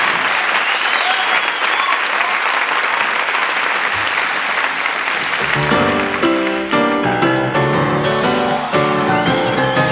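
A concert audience breaks into loud, dense applause for about five seconds, then keeps clapping as piano and music start up underneath.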